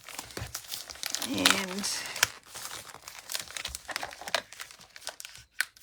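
Plastic packaging of a stamping kit being opened, loud crinkling and tearing in bursts close up, with a person talking between the crackles.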